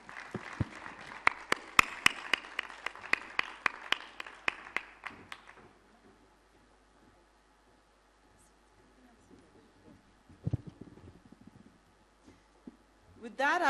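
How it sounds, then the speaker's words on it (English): Audience applause for a presenter named Tabitha at a 2017 plenary session on stage, a burst of scattered clapping for about six seconds that then dies away into quiet room noise. "A big round of applause for Tabitha."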